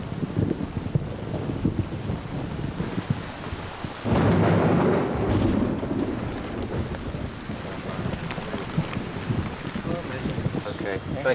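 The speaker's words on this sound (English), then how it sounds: "the clouds roll in and the rains come" Rain falls steadily in the Irian Jaya rainforest at dusk, with a heavy rumble of thunder swelling midway and then fading into continuous downpour; low voices may sit faintly beneath.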